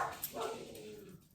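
Three small West Highland White Terriers bark in excited bursts somewhere in a house, sharp yaps and yips a short way off, with no voices over them.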